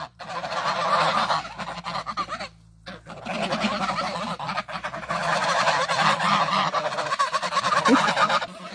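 Farm turkeys and chickens kept together call loudly in a dense, continuous chorus of gobbling and clucking that drops out only briefly.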